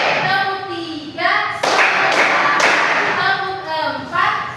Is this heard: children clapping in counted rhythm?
yes